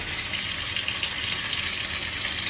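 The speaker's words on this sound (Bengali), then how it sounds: "রুটিটা ভেজে নিয়ে নিলাম" Roti flatbread fries in a hot pan with a dense, steady sizzle, continuous and close, with no talk over it.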